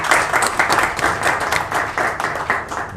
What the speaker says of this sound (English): let's give a round of applause to Mr. Stephen